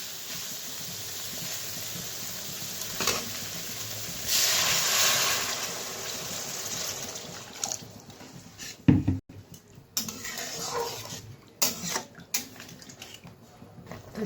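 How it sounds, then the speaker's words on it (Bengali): Water is poured into a pan of fried spice paste for a foli fish and potato curry, setting off a loud sizzling hiss that swells and then settles into softer bubbling, with a few sharp clatters of utensils. "তো মশলাটা ভালোভাবে কষে গেছে, তো পরিমাণ মতো জল দিয়ে দিব।"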